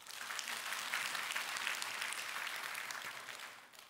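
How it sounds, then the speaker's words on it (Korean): Congregation applauding at a Korean church's early-morning worship service, a steady wash of clapping that fills nearly four seconds at moderate distance before tapering off at the end, with no voices over it. "여러분 박수 한번 해주셔요."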